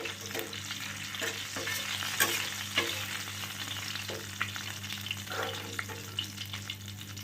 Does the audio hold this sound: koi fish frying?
yes